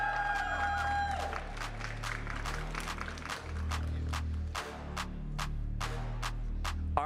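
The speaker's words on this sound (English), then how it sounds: "Please give a big round of applause for" Audience at a Pokémon regional championship applauds a third-place finisher, steady crowd clapping and cheering that carries through the whole stretch over a low continuous hum of the venue.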